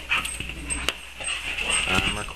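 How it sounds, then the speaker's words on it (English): A dog whimpers and yips in short high-pitched bursts at neighbors' fireworks, close by, with a sharp click in the middle. "Maggie, shut up, dog."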